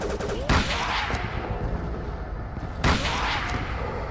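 Gunshots in the video game Call of Cthulhu: Dark Corners of the Earth, two sharp loud reports a little over two seconds apart, each trailing into a rumbling tail over a low background hum.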